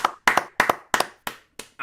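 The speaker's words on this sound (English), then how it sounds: "Round of applause for Stump" Handclaps from a small online award-show audience, about six separate bursts of quick paired claps in an uneven rhythm, close and fairly faint, with a voice starting at the end.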